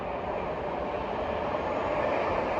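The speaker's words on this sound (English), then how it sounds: "there's another train" A train rolls past near a house rooftop in Schonap, a steady broad rumbling roar that holds at even loudness throughout, with no voices.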